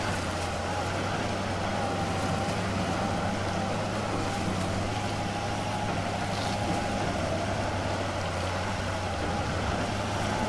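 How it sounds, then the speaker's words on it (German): Heavy truck engine lugging at low revs in the off-road driving game SpinTires, a steady, loud droning rumble held throughout with no talk. "Hat sich Motor unterdreht."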